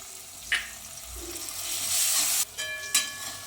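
Tomatoes are stirred into potatoes frying in a pan for poha, a steady sizzle broken by a few sharp scraping and clattering stirs near the mic, with no talking.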